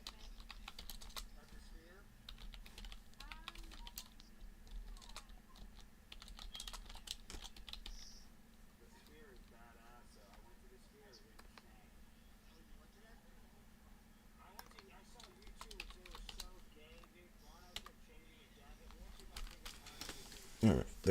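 Typing on a computer keyboard, a dense, uneven patter of quick key clicks that keeps going in bursts with short pauses, fairly close but soft, over a low steady hum.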